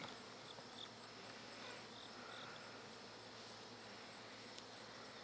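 Dense, continuous buzzing of many honey bees at an open hive during an inspection, a steady droning hum close by with no talking.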